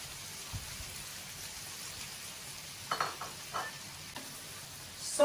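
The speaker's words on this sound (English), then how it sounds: "Bring it to a simmering heat and add the methi, the pre-washed and cut methi leaves." Fresh, pre-washed and cut methi (fenugreek) leaves go into a simmering pan: a soft, steady sizzle with a few scraping stirs toward the end, no talking.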